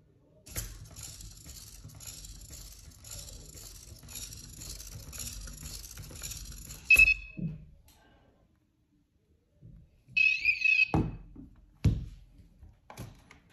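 A single electronic buzzer plays a run of tones, a steady buzzing pattern lasting several seconds, then a short high beep and a warbling chirp, with a few clicks and knocks after.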